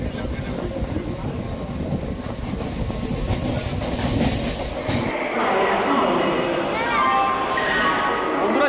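A Sheoraphuli–Howrah local train runs with a loud, continuous rumble and rhythmic clatter of wheels on track, the tone shifting partway through as the surroundings change.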